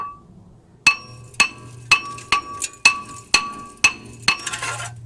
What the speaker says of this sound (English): we'll just give it a bit of a tap with a hammer